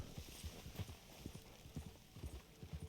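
Horse hooves clip-clop steadily in the Red Dead video game, a quiet, even walking rhythm of soft thuds throughout, with no talking.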